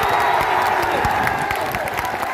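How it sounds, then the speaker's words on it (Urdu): A crowd at a Muslim protest rally breaking into dense applause and cheering, a loud, steady roar of many hands and voices that fills the whole moment. "تالیاں مت بجاؤ"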